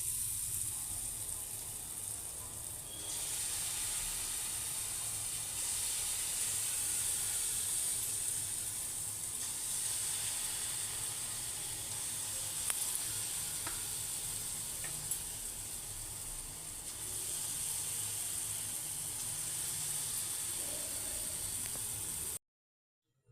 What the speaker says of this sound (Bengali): তো একটা একটা করে বড়া ছেড়ে দেওয়া হচ্ছে